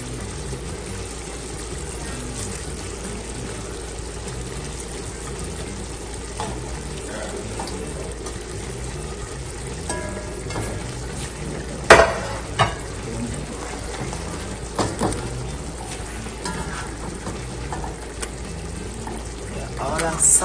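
Fish frying in a pan over low heat for Jamaican brown stew fish, a steady close sizzle with stirring scrapes and a few sharp clatters, running continuously for about twenty seconds.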